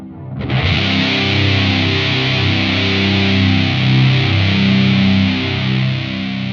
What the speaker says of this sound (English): And then this is how the chorus sounds after the fuzz.